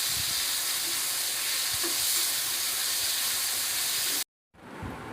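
Onions sizzle steadily in a hot pan after salt goes in, a broad continuous frying hiss that holds loud and even, then cuts out abruptly near the end before the sizzle returns more softly.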